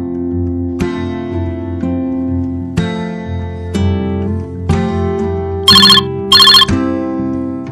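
A mobile phone ringtone plays a repeating melodic tune with bright chime-like accents, loud and close, with no talk over it, while a friend is being called.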